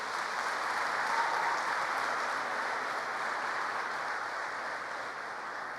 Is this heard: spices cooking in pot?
no